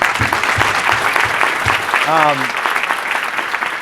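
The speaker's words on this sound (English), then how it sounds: "If we can give them a round of applause." Audience at a Rise of the Rookies 2023 event giving a round of applause, a loud, dense wash of clapping from a crowd that carries through the whole stretch, with a brief voice rising over it midway.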